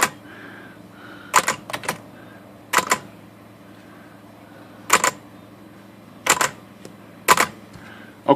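Key strikes on a 1908 Blickensderfer 8 typewriter, repaired, come in short sharp clusters of two or three clacks separated by pauses of a second or more, close and loud with a low hum underneath.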